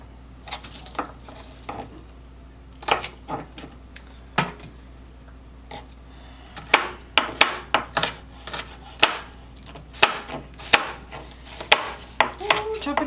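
A knife chops pineapple fried rice ingredients on a cutting board, sharp irregular knocks, sparse at first and then in quicker bursts, close and clear against a quiet kitchen hum.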